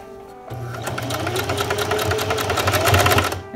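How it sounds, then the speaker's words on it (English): A sewing machine top stitches a folded seam on a newborn baby sleeper, running steadily after a brief quiet start with a rapid, even needle rhythm that builds slightly in speed, close and clear. "I'm gonna fold it over, and I'm gonna top stitch"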